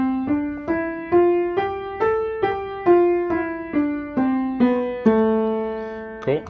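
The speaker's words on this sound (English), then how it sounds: "So the first one is what we call the A natural minor scale" An A natural minor scale rings out one note at a time, about thirteen evenly spaced, sustained tones climbing up and then stepping back down, clear and close with no talking.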